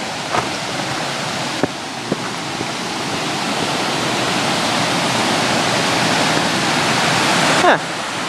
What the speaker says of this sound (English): Little mini fall.